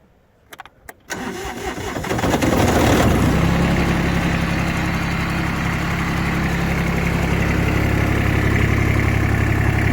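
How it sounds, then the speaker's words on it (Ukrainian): An Iseki SGR19 diesel garden tractor engine cranks after a few clicks, then catches and settles into a loud, steady diesel rumble running continuously up close. "Двигун працює взагалі прекрасно."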